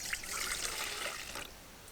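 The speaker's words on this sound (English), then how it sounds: "first thing you're going to pour in is the coffee" Coffee pours into a jar for soapmaking in a short, steady liquid stream, close and fairly quiet, trailing off at the end with no talk over it.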